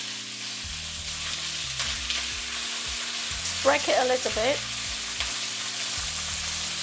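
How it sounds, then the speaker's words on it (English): Steady sizzling of chicken thighs searing in a hot pan, with a brief clatter of stirring midway and a short spoken remark over the crackle. "Can you hear it sizzling?"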